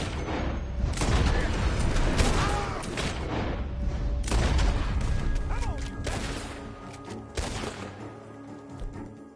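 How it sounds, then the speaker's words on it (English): Rapid bursts of gunfire and crashing impacts fill a busy game soundscape, dense and continuous, with a few sharper shots standing out. "Gunshots are coming from that barn!"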